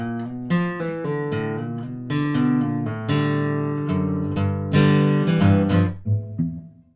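An acoustic guitar strums chords in a steady song pattern, with bright string attacks and ringing sustain, played close and alone.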